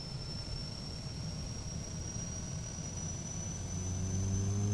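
A C20 aircraft engine in Flight Simulator X spins up with a steady whine and broad rumble, the low drone building and thickening toward the end as it catches.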